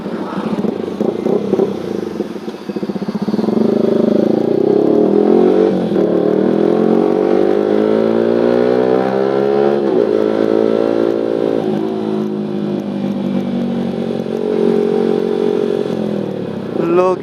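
Motorcycle engine running while riding, a steady droning hum with rising and falling pitch as the bike speeds up and slows, loud and continuous throughout, with a voice talking over it.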